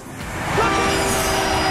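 A train passes a level crossing with a loud, steady rolling rumble and a sustained horn-like tone running through it, close and continuous with no voices.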